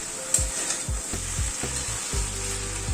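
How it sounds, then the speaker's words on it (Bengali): Mustard seeds fry in hot oil in a pan, a continuous close sizzle overlaid with a series of short scraping stirs from a spatula, fairly loud and without talk. "সর্ষেটা দিয়ে জাস্ট একটুখানি 1-2 মিনিট একটুখানি নাড়াচাড়া করে নেব।"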